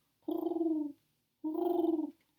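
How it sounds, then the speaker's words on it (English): Two soft, low cooing calls of a mourning dove, each about half a second long, separated by a short pause, close and clear in a quiet setting. "there was a mourning dove nest right outside my bedroom window, and I could hear the doves making that sound"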